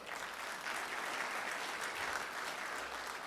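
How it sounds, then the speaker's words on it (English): Steady round of applause from the audience at a Rotary club meeting, many hands clapping evenly at moderate distance throughout, without a break or a fade. "so give him a round of applause."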